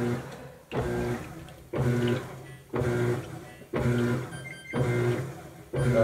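A GE GTW680BSJWS top-load washing machine agitates a rug using quick burst agitation. About six evenly spaced surges of churning motor sound rise and stop in a steady rhythm at moderate volume.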